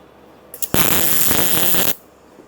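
A Dynaweld MIG-200 welder over seven years old, its gun jamming, strikes one short crackling, buzzing weld burst of about a second, preceded by a couple of faint clicks, then goes quiet.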